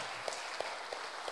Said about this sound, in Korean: 하나님께 영광의 박수 올리시겠습니다